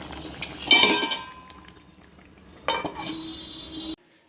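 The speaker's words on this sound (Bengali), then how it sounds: "এবার একটুখানি নাড়া দিয়ে দিচ্ছি" Cooking food is stirred in a pot in two short bursts, with a metal spoon clinking and scraping against the vessel, close and moderately loud, separated by a quieter gap before cutting off.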